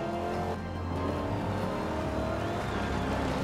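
A 2015 Dodge Charger drives steadily in Forza Horizon 2, its engine droning in a continuous, even hum with layered harmonic tones and faint tire noise, heard on its own without talk.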